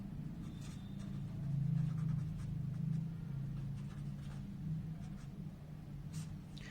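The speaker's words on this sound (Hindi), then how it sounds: "हम यहां पे लिख देते हैं सिद्ध करना है।" A pen or chalk scratches steadily across a board or paper during a Class 10 trigonometry lesson, with a continuous close scraping texture over a low background hum and no speech.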